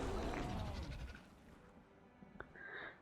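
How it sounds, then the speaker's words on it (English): Cartoonish cow moo from the Fanatic of Mogus card in the Magic Arena digital card game: one drawn-out harmonic lowing call in the first second, then fading into quieter game chimes. "I love the cow noise Fanatic of Mogus makes"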